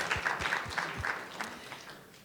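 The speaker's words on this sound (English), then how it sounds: "let's give her an applause." An audience at a talk on forests and health gives a brief round of applause, faint and fairly distant, with a handful of distinct claps near the start before it quickly fades away.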